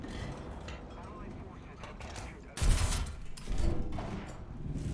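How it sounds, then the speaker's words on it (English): A Churchill Mk.1 tank in War Thunder fires a low-velocity smoke shell. One heavy, booming shot is followed by a second thud about a second later, over a steady engine rumble. A player talks faintly throughout. "Let's lob a smoke shell his way."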